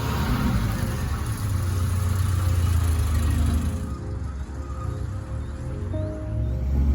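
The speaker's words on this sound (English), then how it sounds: "Finally, we're ready to drive the car." A car on the road just after its transmission mount was replaced, with a steady low engine drone and road rumble continuing throughout, close and even in level, with no talk.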